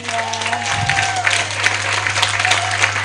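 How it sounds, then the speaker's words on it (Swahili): A church congregation at a Sunday service claps together in sustained, dense applause that stays steady throughout, with a voice briefly heard at the start over the clapping. "Simpigie Yesu makofi."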